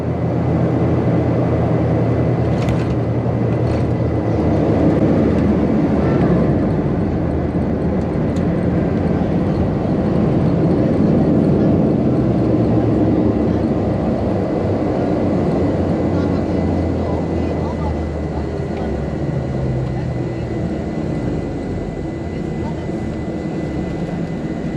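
Turboprop engine drone of an Airnorth Embraer EMB-120 Brasilia in flight on a sunrise leg from Darwin to Alice Springs, a loud, steady cabin roar with constant low hum across the whole stretch, faint chatter beneath.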